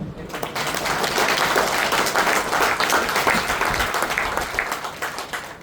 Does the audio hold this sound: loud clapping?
yes